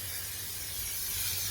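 Silicone wheel protector sprayed evenly onto a BMW alloy wheel, a steady close aerosol hiss running throughout with no voices.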